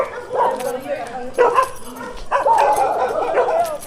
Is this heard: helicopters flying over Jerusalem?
no